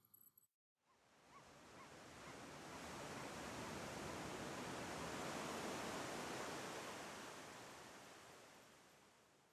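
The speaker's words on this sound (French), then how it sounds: "Une vague arrive." An ocean wave breaking on a beach, a broad hiss of surf that swells steadily, peaks in the middle and slowly fades, heard alone after a brief start.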